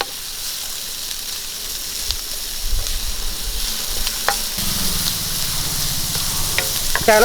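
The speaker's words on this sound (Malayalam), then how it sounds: "അതിൻ്റെ കൂടെ തന്നെ ഒരു പച്ചമുളക് അരിഞ്ഞ കൂടെ നമുക്കതൊന്ന് വഴറ്റി കൊടുക്കാം" Onion and chopped green chilli sauté in a hot pan with a loud, continuous sizzle, broken by occasional spatula stirs and scrapes, close up and with no talking.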